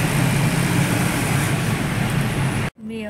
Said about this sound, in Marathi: आणि इतकी गर्दी आहे ना, खूपच गाड्यांना